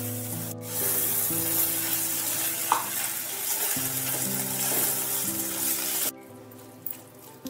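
Softened onion and capsicum fry in a pan while being stirred, a steady low sizzle with scraping, rubbing strokes of the spatula and a faint background hum, ending in a brief quieter stretch with a final scrape.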